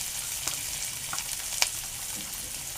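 Onion fries quietly in a pan for papad roll filling, a soft continuous sizzle with a few light clinks of a utensil, close but low in level, no talking.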